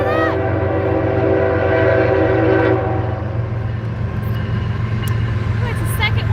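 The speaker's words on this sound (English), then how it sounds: "There's another train." Train passing near a creek, a loud horn blast over a steady low rail rumble that carries on after the horn stops, with speech mixed in.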